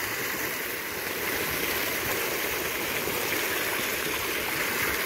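Water gushing from an open valve into a farm pond, a loud, steady rushing splash like a small waterfall, close and continuous without a break.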